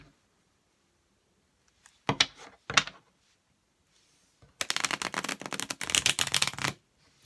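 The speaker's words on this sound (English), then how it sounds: "I'm going to pull a couple more cards." Tarot cards are shuffled and pulled by hand in a quiet room: two short bursts of riffling, then a longer, denser stretch of flapping card shuffles, all close and crisp.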